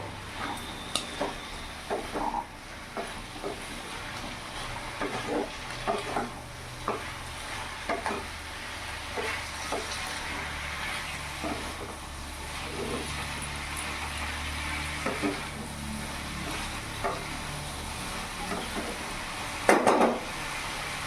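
Shrimp with a little chili powder stirred in a pan over a raised gas flame, giving a continuous sizzle with repeated spatula scrapes and taps on the pan, close-up and without any voices.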